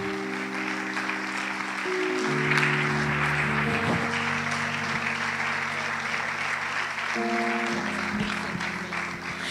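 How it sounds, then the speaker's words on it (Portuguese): Sustained applause from a church congregation over a steady organ-like chord that shifts pitch, the clapping filling the whole stretch at moderate loudness. "Dê um aplauso ao Senhor Jesus, até que ela chegue aqui."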